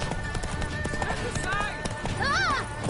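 Roach, the horse in The Witcher 3: Blood and Wine, gallops with steady clip-clop hoofbeats beneath game music and a rider's talk, and a bright neigh-like tone rises near the end.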